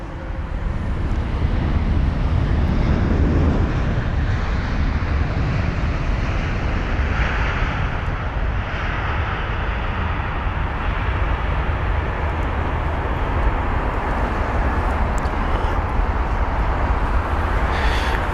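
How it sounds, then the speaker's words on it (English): A British Airways Airbus A350-1000 landing at Heathrow: a steady, loud, broadband jet engine roar with rushing wind noise, continuous for the whole stretch with no voices. "And a very nice touchdown there."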